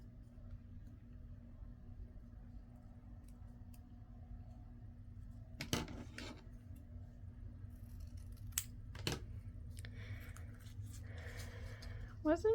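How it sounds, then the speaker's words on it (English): Scissors cut paper strips for a junk journal with a few sharp, isolated snips against quiet room hiss, close and fairly soft, with small handling rustles between cuts. "So let me cut my other strips"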